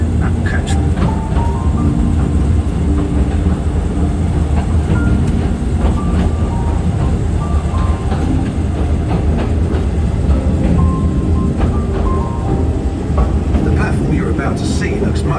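Mail Rail mini train rumbling through old London postal tunnels, a loud continuous roar of wheels on track with clickety-clack rhythm and squeals, steady throughout with no break.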